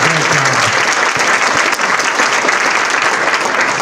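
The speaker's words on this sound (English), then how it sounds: "how about a big applause for our curator?" Audience applause for the curator at the close of a cockroach panel session: dense, loud, steady clapping from a sizeable crowd, sustained evenly throughout without pause.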